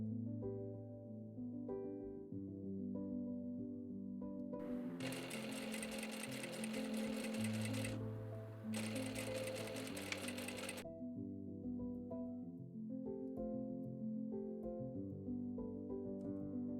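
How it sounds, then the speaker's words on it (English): Sewing machine stitching the side seams of a dress up to the pocket marks, a steady rapid whir running in two bursts with a brief pause between them, alone over quiet background music. "First, I stitch the side edges up to the pocket marks."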